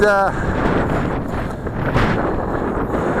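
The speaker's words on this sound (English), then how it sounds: "Officially, it's too windy to fly here right now, folks." Strong wind buffets the microphone with a steady low roar and gusty rumbling throughout, loud and close.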